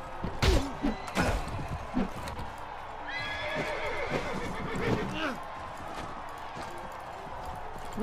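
In Mount and Blade Warband with the Floris mod, a horse whinnies loudly in the middle, surrounded by galloping hooves and sharp battle impacts, with chatter running underneath.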